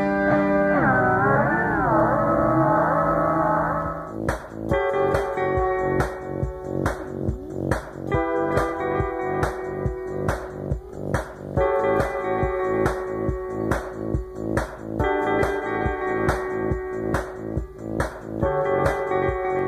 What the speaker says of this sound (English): Turn the switch of the microphone bit to sound and play with the delay parameters.